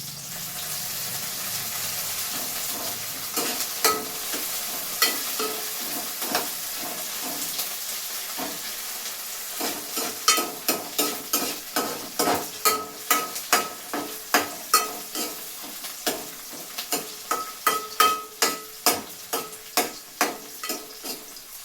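Food with coriander frying in a pan is stirred, a steady sizzle broken by a long series of regular scraping strokes that grow sharper and more rhythmic toward the end.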